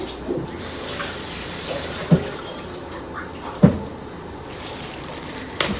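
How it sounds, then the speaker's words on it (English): Tap water runs steadily while plastic is rinsed, a soft continuous splash with a few sharp clicks and crinkles from the plastic being handled. "Rinse your plastic."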